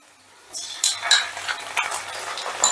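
Onions frying with ginger-garlic paste for a Bengali rohu fish curry, a rising sizzle with scraping stirs and light clinks of a utensil against the pan, fairly close and without talk.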